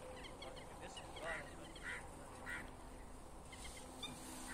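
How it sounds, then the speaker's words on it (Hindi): A flock of demoiselle cranes gathered at a pond calls with a few faint, distant honking cries spaced irregularly over a low outdoor background. "साइबेरियन पक्षी कुर्जे। ये हमारे मेहमान बन के आए हैं।"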